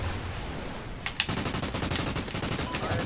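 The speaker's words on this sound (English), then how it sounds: "See that distance shooting? That's why I love this gun." Rapid automatic gunfire from a Vector or MTAR submachine gun in Call of Duty Ghosts, a dense rattling burst starting about a second in and continuing loud and steady to the end.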